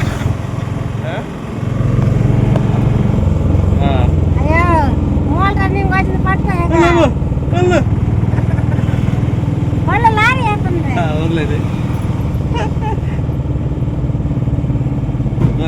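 A small auto rickshaw engine rattles and putters steadily close by while people talk loudly over it.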